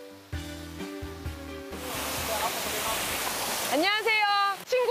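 A waterfall on Jeju Island pours into a large natural pool, a steady broad rush of falling water that starts after a brief opening and stays loud, with a voice speaking briefly near the end.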